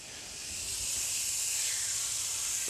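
Lamb loin fillets searing in a hot pan with olive oil spray give a steady, loud, bright sizzling hiss that holds throughout and swells slightly, with no voices.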